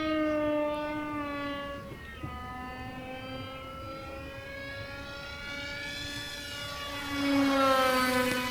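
A small high-pitched RC seaplane motor whines steadily, its pitch sliding as it passes, growing louder and rising at the end, with no voices.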